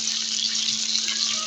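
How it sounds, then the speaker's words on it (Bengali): Chicken pieces seasoned with turmeric, chili and salt fry in a pan, giving a steady, even sizzling hiss with a faint hum beneath, no pauses. "আমার মুরগিগুলো ভাজা হচ্ছে"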